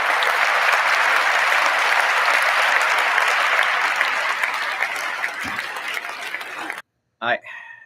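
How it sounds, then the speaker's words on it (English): Loud, sustained crowd applause at Trump's inauguration that gradually thins, then drops out abruptly, followed by a short burst of a voice right at the end. "Jesus Christ, with all the applause."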